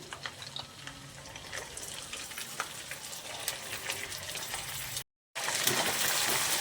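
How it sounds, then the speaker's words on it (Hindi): Mutton pieces frying with browned onions in a pot for mutton korma, a steady close sizzle and crackle with a brief dropout near the end, no talk. "अब हम इसे मटन को प्याज के साथ बहुत ही अच्छे तरीके से भूनेंगे ताकि इसका कलर चेंज हो जाए"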